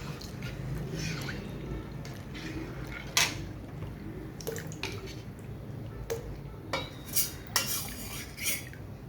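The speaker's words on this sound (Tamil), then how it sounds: "கிண்டினே இருக்கணும்" A utensil clinks and scrapes against a pot while sprouted ragi porridge is stirred, irregular metallic taps standing out over a steady low background bubbling.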